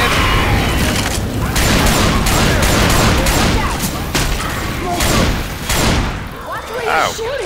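Dense, continuous gunfire and booming blasts fill the Dark Carnival level of Left 4 Dead 2, loud and close throughout, easing slightly toward the end while players talk over it.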